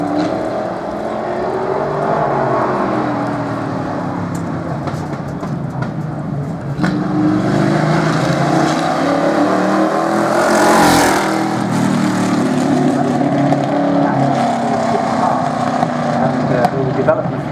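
A Rover 3500 development car drives past at an auto-cross event in Great Britain, the engine note rising and sweeping by up close midway, over continuous talk.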